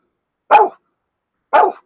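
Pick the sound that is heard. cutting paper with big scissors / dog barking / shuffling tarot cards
dog barking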